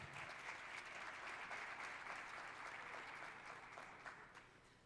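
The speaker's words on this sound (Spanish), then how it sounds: "Le damos un aplauso, por favor, a Blanca?" An audience at a cybersecurity conference applauds steadily, a dense wash of clapping that holds for several seconds and then begins to fade.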